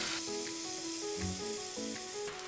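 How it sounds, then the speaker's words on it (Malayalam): Chicken legs frying in a pan, turned over so both sides cook, with a steady close sizzle and soft crackle throughout, plus faint tonal kitchen hum and a few light clicks. "ഇങ്ങനെ ഇടയ്ക്കിടയ്ക്ക് തിരിച്ചിട്ട് 2 സൈഡും ഒന്ന് ജസ്റ്റ് ഫ്രൈ ചെയ്ത് എടുക്കുക."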